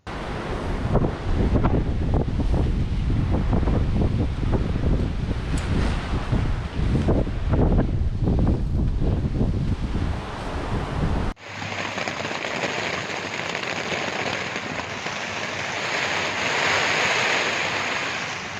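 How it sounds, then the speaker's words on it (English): Loud, constant winter wind roaring and buffeting against the microphone at a campsite on Rottnest Island during severe weather, a heavy rushing noise that never lets up, with a sudden shift in tone partway through. "While I was in the tent, the wind was very loud and prevented me from sleeping."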